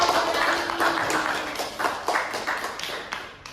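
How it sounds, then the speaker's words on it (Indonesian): A classroom of students bursts into a short round of clapping, dense and fairly loud at first, then thinning out over a few seconds. "Tepuk tangan dong buat Ega"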